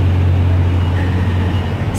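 Night traffic rolls along a New York street, a loud, steady low rumble of engines and tires close by with a continuous drone and no distinct pauses.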